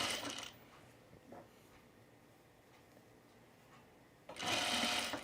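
A sewing machine runs in two short bursts, sewing a very narrow hem around a pullover camp shirt, with a quiet stretch of faint handling between them.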